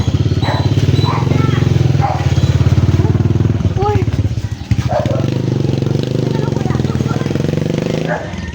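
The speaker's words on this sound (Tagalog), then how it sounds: "Padaanin mo natin itong motor na to." A motorcycle engine runs close by, a steady buzzing drone under ongoing conversation in a street setting in Naic, Cavite.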